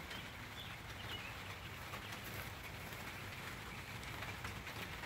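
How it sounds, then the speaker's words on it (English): Steady rain drums on the roof of a greenhouse during April showers, a constant dense patter that stays even throughout with no talking. "You hear the rain hitting the top of the greenhouse."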